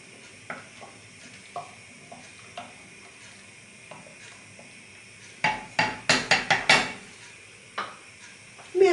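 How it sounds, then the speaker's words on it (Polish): A spoon stirs punch for a coffee-chocolate cake in a pot as it cooks, with sparse clinks early on, then a quick burst of scraping, knocking strokes against the pot's sides. "Mieszamy i gotujemy 2-3 minuty."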